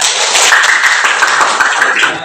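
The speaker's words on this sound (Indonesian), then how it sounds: "Kalau sudah selesai, tepuk tangan dulu semuanya." A class of students claps their hands together, a dense, loud, continuous patter of many hands filling the room throughout.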